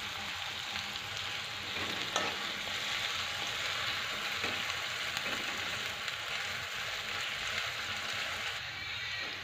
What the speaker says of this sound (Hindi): तो 2 मिनट तक हम भून लेते हैं इसको।